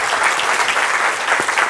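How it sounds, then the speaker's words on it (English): An audience at a talk on agile leadership claps for a speaker, a steady, dense round of applause from a room full of people, close and sustained throughout. "Give her a round of applause."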